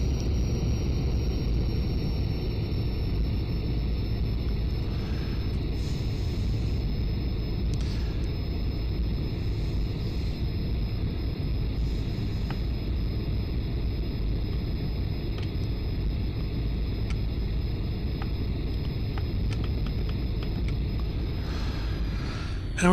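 A military jet in the Aerofly FS 2 flight simulator drones with a steady, broad engine roar and a thin high whine that runs continuously and evenly for the whole stretch, with no talking.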